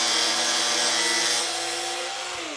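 An angle grinder fitted with a 0.6 mm cutting disc cuts steel: a loud, bright, high-pitched whine with a hissing edge, then the cutting stops and the motor's tone drops as the disc winds down.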